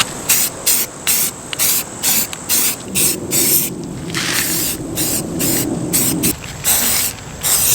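A can of satin black spray paint hisses loudly onto wheels in a series of short bursts and one longer sustained spray, heard up close.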